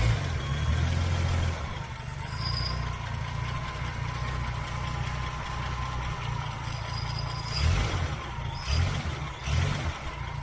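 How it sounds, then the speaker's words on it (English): A 1978 Chevy Nova engine idles with a steady low rumble and a faint high whine, running on alone with a few brief louder bursts near the end. "I think the idle's a little bit low."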